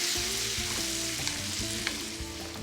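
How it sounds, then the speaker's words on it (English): Tomato puree cooks down in a hot pan with a dense, even, close sizzle and faint bubbling, broken by a few light stirring knocks, with no talking. "I'm going to add our puree of tomatoes. I'm going to let this cook down until it gets a little bit darker and thicker."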